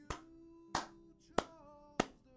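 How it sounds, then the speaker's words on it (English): Four sharp hand claps, evenly spaced and fairly close, with a faint sustained hum underneath. "I gotta clap it up, man."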